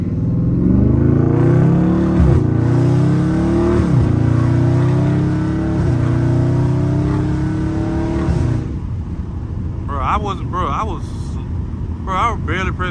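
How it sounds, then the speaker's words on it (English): A catless Dodge Charger Scat Pack revs hard while driving, its exhaust roaring loud and close with rising and falling engine sweeps, then settling into a rumbling idle with brief blips at the end. "just listen to how good Olivia sound, cuz"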